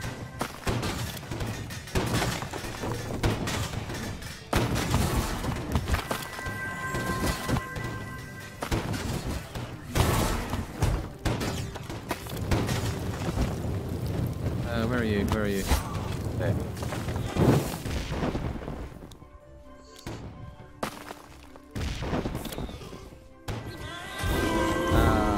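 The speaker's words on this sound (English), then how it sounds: "Explosion effect." Explosion effects crash and thud through the Skyworld VR video game in dense, continuous bursts and booms with clattering debris, loud throughout, while people talk over the action.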